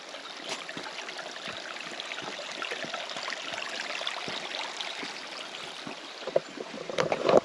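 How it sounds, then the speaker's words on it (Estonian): Water flows steadily in a stream near caves, a continuous broad rushing and trickling wash with small splashes, moderately loud and without voices. "Vesi voolab siin."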